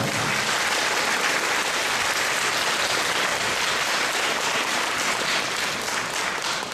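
Audience applause for a parish choir and its conductor at a church concert in Borkowice, a dense, steady wash of many hands clapping throughout, loud and continuous without a break.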